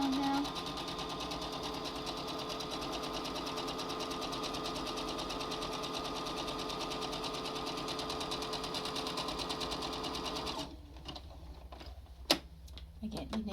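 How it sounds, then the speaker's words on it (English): A sewing machine zigzag-stitches around the edges of a cloth face mask, a steady, continuous mechanical whir running close and loud for about ten seconds before stopping, followed by quieter handling clicks. "so now we have to zigzag those edges"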